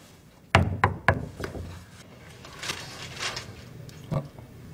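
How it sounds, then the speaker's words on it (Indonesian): Three quick, loud knocks on a room door in a scene from the 2011 Korean drama City Hunter. Quieter rustling and a single soft thump follow. "Nana pun mengira kamar Yongsung adalah kamar Yonghak dan bergegas mengetuk pintunya"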